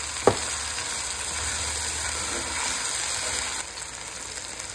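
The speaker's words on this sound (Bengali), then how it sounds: "আলুগুলোকে ভালো করে কষিয়ে নিচ্ছে।" Potatoes sauté in a pan for yakhni pulao, a steady soft sizzle running throughout with one sharp clack of a utensil near the start and no talking.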